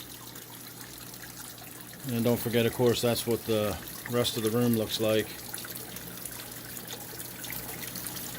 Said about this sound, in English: just a few minutes look at my waterfall tank at the end of the day